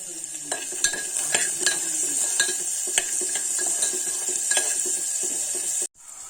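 Food sizzles steadily in a hot pan while a spoon stirs it with repeated scraping clicks against the metal, close up and without talk, ending in an abrupt brief cut near the end.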